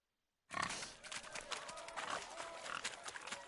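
Pigs oink and grunt in The Witcher 3: Hearts of Stone, a cluster of snorts and squeals that begins abruptly and continues over a faint scuffling background.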